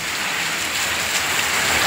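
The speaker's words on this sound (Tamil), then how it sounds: "காற்று மற்றும் இடியுடன் 2 மணி நேரம் மழை பெய்தது" Heavy rain pours steadily during a Tamil Nadu storm, a dense, close hiss with no pauses and no voices.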